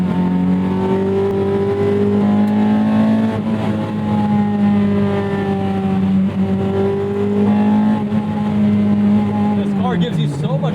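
A 2001 Toyota MR2 Spyder with a swapped 2ZZ engine runs loud and steady throughout, its engine note rising and falling with revs as it drives, with a voice talking over it.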